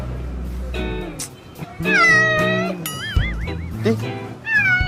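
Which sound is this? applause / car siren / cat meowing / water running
cat meowing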